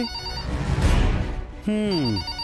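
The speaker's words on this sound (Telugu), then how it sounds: "ఫోన్ ఇంతలా అరుస్తుంటే ఎవరో పట్టించుకోరేంటి?" A telephone rings in a warbling electronic tone, with a burst of noisy rustle before a clear, sustained ring near the end.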